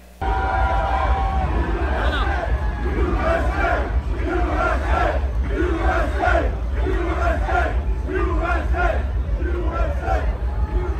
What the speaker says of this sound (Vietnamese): đám đông hô vang Hoa Kỳ, Hoa Kỳ, Hoa Kỳ